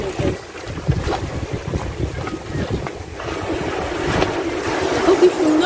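Sea waves at Udaypur beach near Digha: a steady wash of surf with buffeting wind noise on the microphone, rising slightly toward the end, continuous and fairly loud.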